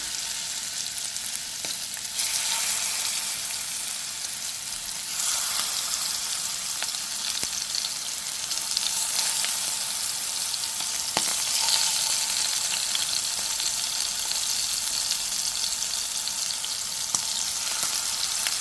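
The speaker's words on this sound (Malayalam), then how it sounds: "നമുക്കിതൊന്ന് വറുത്ത് കൊടുക്കാം. കുറച്ച് എണ്ണ ചൂടാക്കാൻ വച്ചിട്ടുണ്ട്." Marinated prawns fry in hot oil with a steady, bright sizzle and crackle that swells as pieces are dropped in and stirred, close and continuous with no talking.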